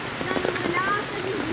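Heavy rain pours steadily near a small stream in a natural spot close to a house, a dense close hiss of drops that holds through the moment, with a brief high whistle rising over it.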